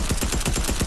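Rapid submachine gun fire in the video game Fortnite, a quick run of evenly spaced shots at moderate loudness with no talking.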